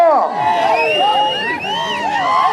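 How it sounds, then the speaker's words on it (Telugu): At a village bull-pulling contest in Budampadu, Guntur, a large crowd cheers and whoops loudly and continuously, many overlapping shouting voices rising and falling close by. "జనాల్లో సందడి రావాలి చప్పట్లతో ఏలతో"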